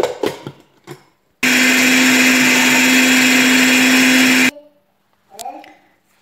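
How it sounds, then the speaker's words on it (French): A kitchen blender whirs loudly and steadily for about three seconds, blending fruit with fresh-squeezed orange juice into a smoothie, with brief clatter before and after. "je rajoute le reste de jus d'orange pressé à l'intérieur. Je mixe."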